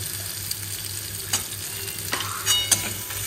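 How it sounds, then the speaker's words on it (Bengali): Masala with turmeric being stirred in a pan, steady frying sizzle under repeated scraping strokes and a few sharp spoon clinks against the pan, close and fairly loud, no talking. "হলুদ দিয়ে নাড়ালাম"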